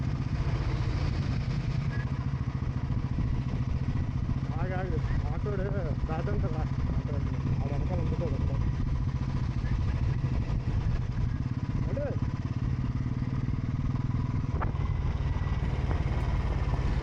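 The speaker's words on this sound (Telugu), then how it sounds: "ఇది నా బైక్ క్లాసిక్ 350" A Classic 350 motorcycle engine running steadily throughout on a road ride, a constant low thudding hum with a voice talking over it.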